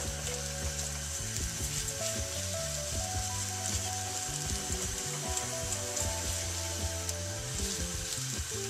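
A chorizo tortilla fries in a pan with a steady, loud, close sizzle that runs throughout, accompanied by a continuous tonal hum underneath and no speech.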